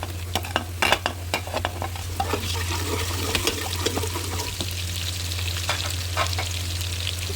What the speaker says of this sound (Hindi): अब इसमें हम लहसुन डाल देंगे।